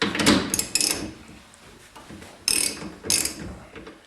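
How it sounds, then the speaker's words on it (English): An 11/16 socket on a ratchet wrench loosens the bottom nut of a rear shock absorber, giving close bursts of rapid metallic clicking separated by brief pauses. "grab your socket with an 11/16 and take this bottom nut off right there"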